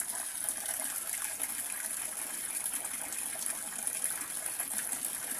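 A coin-operated water vending machine pours water into a basin, making a continuous, even gushing rush that holds steady throughout with no voices.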